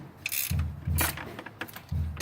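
A 14 millimeter wrench tightening a fitting during an onboard air install, giving a run of quick ratcheting clicks in short repeated bursts, close and fairly quiet, with no talking.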